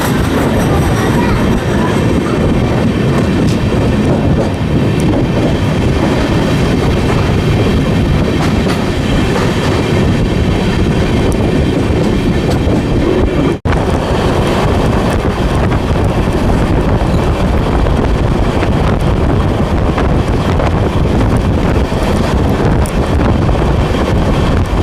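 Amrit Bharat Express train running on the tracks after leaving Durg Junction, a steady loud rumble of wheels and carriage with wind rushing past throughout, and no talk.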